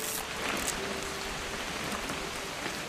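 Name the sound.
rain falling, from the video game What Remains of Edith Finch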